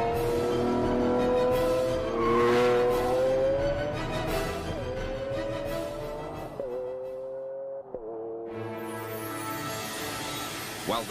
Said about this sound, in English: This 12-cylinder symphony has a full range.